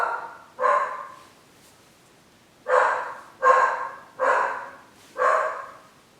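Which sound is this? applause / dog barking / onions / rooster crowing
dog barking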